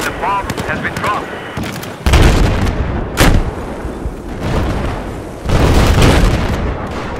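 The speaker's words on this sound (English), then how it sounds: "The bomb has been dropped." Bombs going off in the video game Battlefield, with heavy broadband booms landing around two, three and five and a half seconds over a steady bed of gunfire and rumbling battle noise, loud and close.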